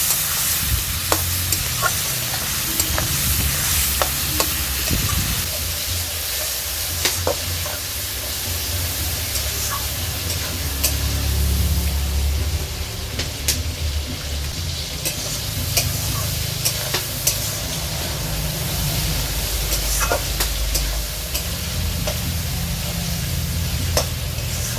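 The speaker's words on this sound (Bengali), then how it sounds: "মাটনটা আমি ভালো করে ভাজা ভাজা করে নিয়েছি।" Mutton pieces fry with salt and turmeric in a pan, giving a steady loud sizzle broken by repeated scraping stirs and clinks of a spoon, with no talking.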